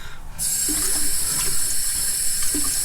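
Kitchen tap water running steadily into a sink while hands are washed, a constant close hiss of flowing water with faint splashes and clunks underneath.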